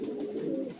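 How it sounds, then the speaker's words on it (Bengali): Pigeons in a large pigeon loft coo in a soft, continuous low murmur, fairly faint and steady through a brief moment, with no talking. "এখানে তো দেখছি প্রচুর পায়রা আছে"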